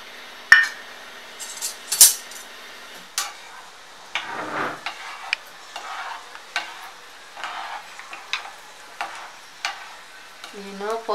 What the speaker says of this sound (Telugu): ఫస్ట్ ఎండుమిరగాయలు వేసుకోవాలి.